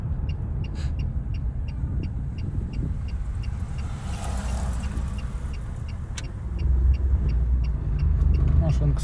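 Car engine humming steadily while driving during a lesson pulling out at a yield intersection, a low rumble throughout that grows slightly louder toward the end, with a regular faint ticking above it.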